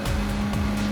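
A Gr4 race car in a video game at Le Mans holds high revs near top speed with no gears left, a steady close engine drone throughout a short moment.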